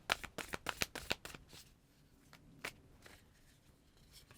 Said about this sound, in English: Let's just shuffle a little bit more and we'll get some tarot spread on this.